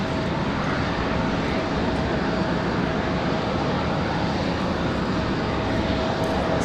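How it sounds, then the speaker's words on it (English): A Southwest Airlines jet departs Raleigh-Durham, a steady, moderately loud engine roar with a thin tonal whine running through it, heard alone without talk. "Southwest 850 departure."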